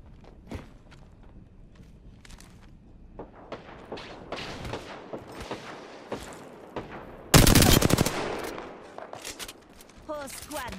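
Gunfire in Apex Legends: scattered single shots and footsteps, then a loud, close burst of rapid automatic fire that trails off into more isolated shots.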